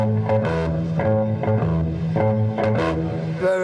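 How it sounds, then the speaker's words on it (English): A bass guitar played in the typical style, a run of plucked notes with a steady rhythm and a clear low tone, a faint effect colouring it, close and alone with no talk. "the basic difference is that most bass players sound like this"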